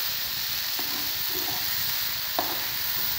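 Desi black-eyed peas (lobia) dry-roasting in a pan, a loud steady sizzle with a few scraping stirs of the spoon, no talking.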